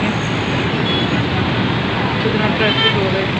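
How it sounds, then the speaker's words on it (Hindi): Steady road traffic outside, a continuous broadband rumble of passing vehicles with faint distant horns, heard from a gallery under a person's voice. "कितना ट्रैफिक हो रहा है।"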